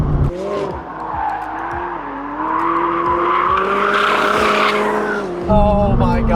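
A McLaren 600LT sports car driven hard on a track, its engine note rising and falling loudly and continuously with shifting pitch and brief tyre squeal, a voice speaking faintly underneath.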